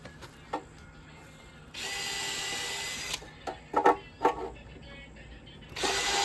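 Short bursts of a power drill whirring as it drives screws into wood on a soffit bird box, with a couple of quick tool clicks between, followed by another drill burst at the end.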